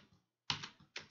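Soft clicks of typing on a computer keyboard, a few quiet keystrokes in a short burst with a pause between them.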